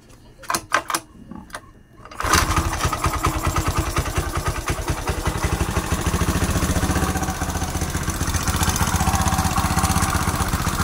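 Battery-operated carbureted Honda Beat motorcycle with skeleton wiring and a 4-pin CDI: a few sharp clicks, then the engine fires on one press and keeps running with a loud, even, close putter.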